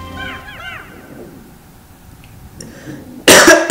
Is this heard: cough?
yes